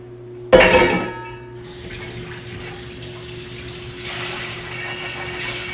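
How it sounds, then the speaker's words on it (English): Lye soap-making container rinsed under a running tap, opening with a loud clatter of the container striking the sink, then a steady rush of water that swells slightly near the end. "I'm going to rinse this right away, so I don't have it sitting out somewhere."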